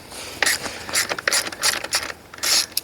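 Ratcheting clicks from a wrench loosening nuts on the shoulder bolt of a 2006 Kustodian Plus bowling lane machine come in short close bursts, separated by brief pauses.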